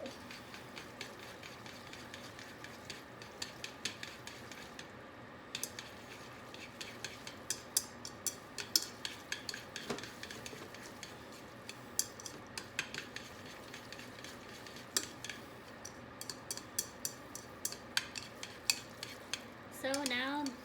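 Ottogi japchae noodles are mixed with sesame oil sauce, producing a long run of light clicks and scrapes of a utensil against the container, steady but irregular in rhythm, with a soft background hiss.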